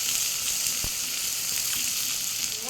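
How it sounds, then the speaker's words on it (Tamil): Onions sautéing in a pan, half softened, giving a steady close hiss of frying with a faint tap or two, no speech. "வெங்காயம் பாதி வதங்கி வந்துச்சு இப்போ பூண்டு போடுறோம்"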